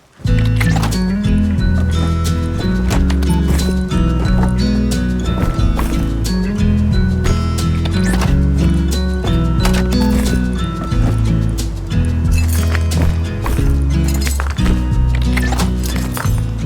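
A horse's hooves clip-clop at a steady trotting rhythm in the Rust video game, loud and close, carried over a rainy, foggy setting with music playing underneath.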